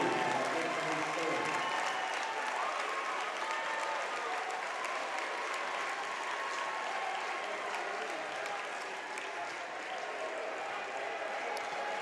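Crowd applause and cheering fill a gym at a 6A boys basketball final between Freedom and Northampton, a steady, dense roar that holds for the whole stretch with some voices mixed in.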